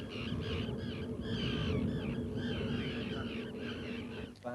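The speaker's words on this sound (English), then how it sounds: "Seagulls start to make roosting calls." Seagulls give repeated roosting calls on the south Cornish coast as a total solar eclipse darkens the sky, a dense, continuous chorus of overlapping cries heard at moderate distance over steady background noise.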